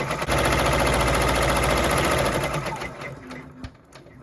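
An embroidery machine stitches an appliqué onto a shirt with a rapid, even mechanical chatter, loud and close, then winds down and stops in the final second.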